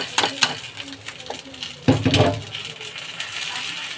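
Raw rice lands in a hot pan for khichdi with a sudden rattling rush, then sizzles and scrapes as a spoon stirs it. Earlier there are small clinks against the cookware.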